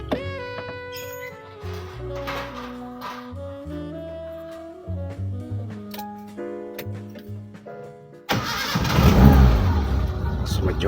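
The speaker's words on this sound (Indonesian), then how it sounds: "Kita coba mesinnya." A 1985 Suzuki Jimny Super's engine is heard after several seconds of tonal music. It then catches and runs loud and close, with a rough, steady roar through the final seconds.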